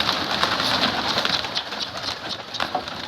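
Turtle doves coo outdoors in hot sun during a bird hunt, soft and somewhat distant, partly masked by steady hissing background noise.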